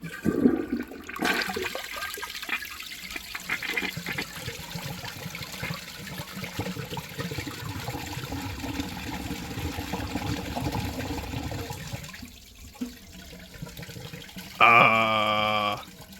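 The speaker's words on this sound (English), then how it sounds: "Alright, the tank is full, and I'll give it its first flush." A 1997 American Standard Savona one-piece toilet flushes, with a loud rush of water that runs steadily for about twelve seconds before tapering into trickling refill, then a brief sharp sound near the end.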